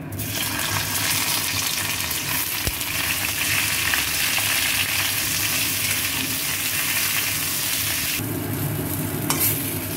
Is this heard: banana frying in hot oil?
yes